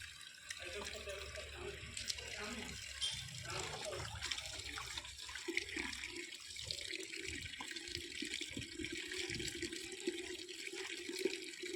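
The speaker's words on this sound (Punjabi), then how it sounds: "ਆਪਾਂ ਗਾਜਰਾਂ ਧੂਰੀ ਹੁਣ ਤੇ ਪਾਣੀ ਕੱਢਣੇ ਪੈਂਦੇ ਨੇ ਮਿੱਟੀ ਵਾਲੀ ਹੁੰਦੀ ਹੈ" Water poured and sloshed over muddy freshly pulled carrots outdoors, a continuous rushing, splashing wash with some faint background voices.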